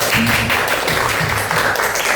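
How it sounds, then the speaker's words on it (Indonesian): Applause from a class at the close of a university teaching-practice lecture, a dense, even clatter of clapping with a low murmur and hum underneath, steady throughout. "tepuk tangan buat kita semuanya"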